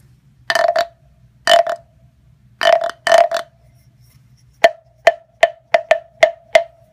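A wooden bullfrog instrument from a frog collection sounds deep, burp-like croaks: four drawn-out scraped rasps in pairs, then a quick series of single sharp knocks, loud and close with no talking.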